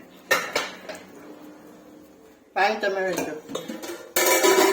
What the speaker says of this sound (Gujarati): આ ચમચીથી મિક્સ કરો.